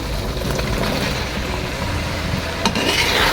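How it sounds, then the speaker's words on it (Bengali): Spices and boiled potatoes are fried and stirred for an egg omelette curry: a loud, continuous sizzle with stirring scrapes, and one sharper knock near the end. "আলু দিয়ে ভালো করে একটু কষিয়ে নেব"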